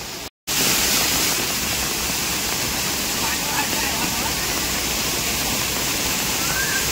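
Heavy rain with swelling, muddy stream water makes a dense, loud, unbroken roar that fills the space after a very brief silence at the start.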